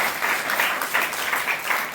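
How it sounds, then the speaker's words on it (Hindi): A crowd at a Rajasthan village school event gives a warm round of applause to welcome a guest, a steady patter of many hands in gently swelling waves lasting about two seconds. "जोरदार तालियों से"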